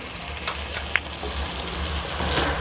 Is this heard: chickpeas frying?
yes